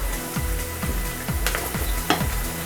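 Chopped capsicum sizzles in hot oil in a paneer masala as a spoon scrapes and stirs the pan in repeated strokes, close and steady frying with no talk.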